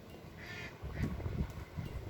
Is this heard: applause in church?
no